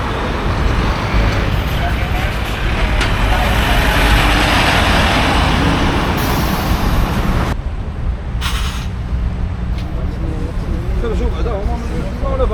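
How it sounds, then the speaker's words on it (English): Heavy, continuous road traffic roars at a busy crossing in Spain, with loud vehicles passing close by and an abrupt drop to a quieter, more distant hum partway through, along with a short bright burst. "So there's so much traffic here"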